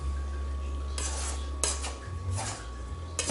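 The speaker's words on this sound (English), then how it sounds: "We're going to take a scraper. Now we're going to work our way around the edge of the bowl." A scraper works around the edge of a bowl of ciabatta dough, giving several short scraping bursts against the bowl with small clinks in between.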